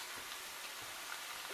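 Onions and green pepper fry in a pot with a constant, even hiss and sizzle, close and fairly quiet, along with soft crackles.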